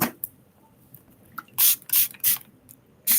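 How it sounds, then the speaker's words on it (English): Short bursts of rose water spray onto cotton pads, several quick close hisses, the last ones clustered near the end, with soft handling rustles and taps in between and no talk. "Spraying rose water on them."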